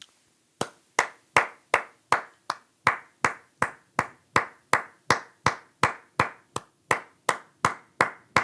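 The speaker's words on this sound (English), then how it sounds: "Clap it up." Sharp, loud hand claps repeat steadily about twice per second, each crisp and close with a short room echo, in an otherwise quiet space.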